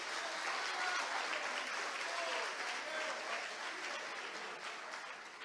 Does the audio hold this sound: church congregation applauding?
yes